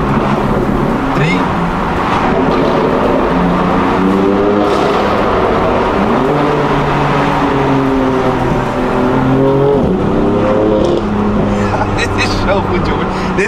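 A BMW M4 engine accelerates hard through a tunnel, loud and close, with gear changes and the engine note climbing and falling again and again as the sound echoes off the walls, and a voice is heard talking beneath the roar.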